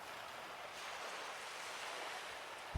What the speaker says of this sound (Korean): 파도 소리는 계속 들려왔다.